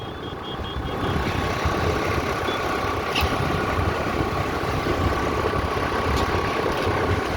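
An Activa scooter engine runs steadily on a ride through a busy afternoon market street in Khambhat, a continuous close drone mixed with road noise, with a brief high beep partway through.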